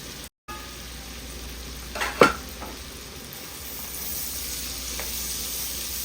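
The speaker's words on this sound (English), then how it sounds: "Let's add some finely chopped garlic." Finely chopped garlic sizzling in a pan with onions for southern green beans with potatoes and bacon, a soft steady frying hiss with a brief clatter of stirring around the middle, quiet and close, no talking.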